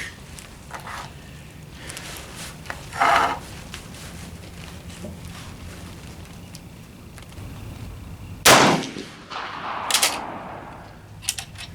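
Gunshots at an outdoor shooting range, two sharp loud reports several seconds apart with fainter cracks and shuffling between them, no talking.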